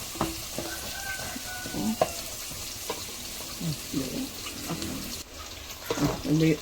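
Onions frying in oil in a pan for peas pulao, a steady close sizzle with intermittent scraping stirs and utensil clinks throughout.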